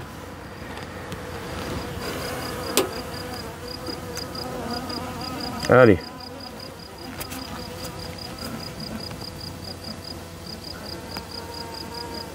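Honeybees buzzing steadily throughout while being caught by hand by the thorax, with a brief louder buzz close by midway and a short word spoken once.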